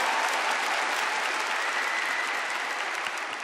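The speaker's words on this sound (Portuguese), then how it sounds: "Então, aplaudam a Ele, né?" A church congregation bursts into applause during a Portuguese-language sermon on the Samaritan woman, a dense, even clapping that holds steady and tapers slightly toward the end, with no talk over it.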